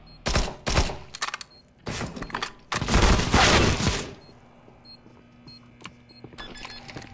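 Several bursts of gunfire from a CS:GO match, loud and close, in clustered volleys across the first four seconds, then fading to quieter scattered shots and low game ambience.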